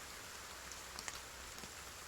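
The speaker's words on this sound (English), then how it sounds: "Nicely pouring, raining." Steady pouring rain forms a soft, distant, continuous hiss, with a few faint drop ticks and no talking.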